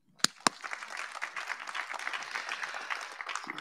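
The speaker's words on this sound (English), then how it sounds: "So give yourself a round of applause." An audience claps at a university nursing pinning ceremony, two sharp near claps followed by steady, moderately loud applause from the crowd.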